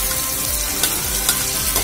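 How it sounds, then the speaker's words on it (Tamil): Small onions and curry leaves fry in hot oil in a pan for a South Indian vada curry. There is a loud, continuous close-up sizzle with occasional scraping stirs. "இது நல்லா ஓரளவுக்கு ப்ரௌனிஷாக ஃப்ரை ஆகி வரணும்."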